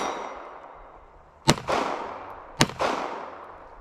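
Two sharp, loud gunshots from a Ruger Security 380 handgun firing 380 ACP, about a second apart, each a crisp crack followed by a brief rolling echo, with no talking.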